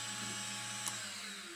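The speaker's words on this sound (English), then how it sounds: "And now I can center drill and drill through tapping drill size all the way down" A drill bores into small steel eccentric strap ears for a Pennsylvania A3 switcher model, first center drilling and then drilling to tapping size, giving a steady, even machine whine and hum with one small tick partway through.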